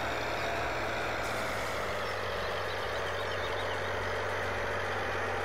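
Steady low drone of a tractor engine idling and running in Farming Simulator 17, constant and moderately quiet with a humming tone and no clear changes.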